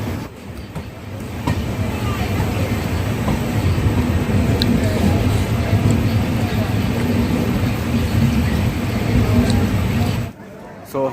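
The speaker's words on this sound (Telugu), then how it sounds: "దాదాపు 1 అవర్ డిలేతో మొర్సి రైల్వే స్టేషన్ నుండి డిపార్చర్ చూడండి ఫ్రెండ్స్." The Jaipur Secunderabad Express pulls out of Morsi railway station with a steady, loud rumble of wheels and carriages rolling close by. The noise stays sustained throughout, then cuts off abruptly near the end.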